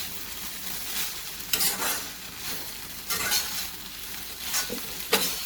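Soya chunks with a little turmeric sizzle steadily in hot oil in a pan, with occasional bursts of brisk stirring and scraping spaced a second or two apart.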